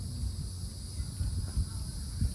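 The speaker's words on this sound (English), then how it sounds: "hear all the bugs, the cicadas" Insects and cicadas chirp by a lake in a nature park, a steady high-pitched buzzing drone running throughout beneath faint low rumbling and handling noise, with no voices.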